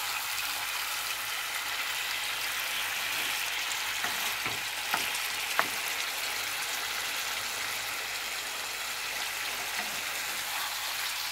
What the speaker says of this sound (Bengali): এবার এটাকে খুব ভালো করে কষতে হবে।